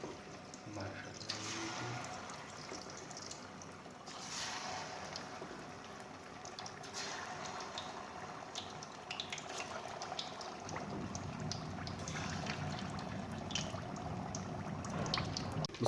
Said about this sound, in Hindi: ऑयल गर्म हो गया है। इसमें अब हम डालेंगे मछली।